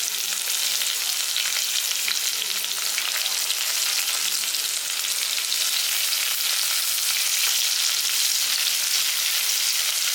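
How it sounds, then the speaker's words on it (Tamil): Half a large onion frying in hot oil with fennel seeds, a dense continuous sizzle that stays loud and close for the whole stretch, with faint stirring underneath and no speech. "வெங்காயம் கொஞ்சம் செவக்கட்டும்"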